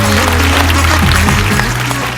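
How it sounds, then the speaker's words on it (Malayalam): A studio audience at a comedy show bursts into steady, loud applause after a skit, a dense clapping wash lasting a couple of seconds. "ഒരു കയ്യടി കൊടുക്കാം"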